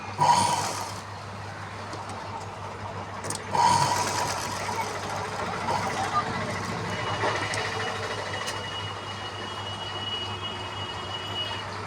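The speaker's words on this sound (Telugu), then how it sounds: "చూడండి ఫ్రెండ్స్ ఎలా కుడుతున్నారు." A sewing machine stitches cut-work designs on the top part of a dress, running in a steady mechanical whir with two louder bursts near the start, fairly close and without talk.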